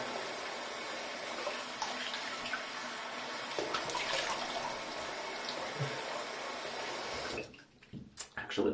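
Running water rinses shaving soap from a face at a sink, a steady close hiss of flowing water that lasts several seconds before cutting off, followed by a few drips and small splashes.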